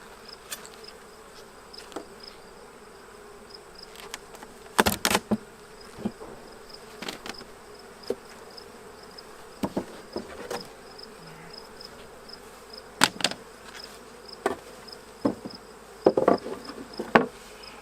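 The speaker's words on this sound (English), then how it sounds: "let's see how these bees are doing." Honey bees buzzing steadily in a hive during a honey harvest inspection, a low continuous drone with scattered sharp clicks and knocks of handling throughout.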